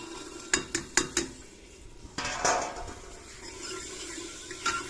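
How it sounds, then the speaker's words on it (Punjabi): Washed potatoes and peas tipped into a pan of ready masala, a few sharp metallic clinks of a utensil against the pan followed by a clattering pour and soft scraping and stirring, close and fairly loud. "ਲੋ ਜੀ ਆਪਣਾ ਮਸਾਲਾ ਹੋ ਗਿਆ ਰੈਡੀ ਤੇ ਇਹਦੇ ਵਿੱਚ ਪਾ ਦਾਨੇ ਆਪਾਂ ਸਬਜ਼ੀ"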